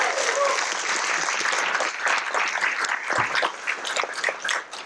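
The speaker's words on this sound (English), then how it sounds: "So I want to give a round of applause for that." An audience at a university lecture on slavery in Charleston applauds, with dense, sustained clapping that rises and then tapers off at the end.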